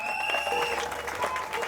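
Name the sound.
applause and acclamation at a wedding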